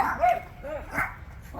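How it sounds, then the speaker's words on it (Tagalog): Two dogs in a household yard bark and yip in a few short, close bursts, with a faint voice in the background. "Aba, may dalawang aso."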